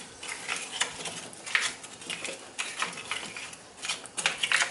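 Potatoes tossed with a tablespoon of oregano are stirred in a pan, giving soft, irregular scraping and clinking strokes, close by and fairly quiet, with no talk.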